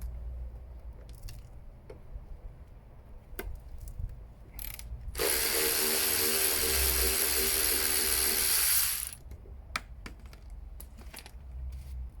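Ratchet wrench undoing the front mudguard carrier bolts on a 2008 Honda ST1300 Pan-European during a fork strip-down, a dense, fast clicking burst lasting a few seconds amid scattered tool knocks and handling noises.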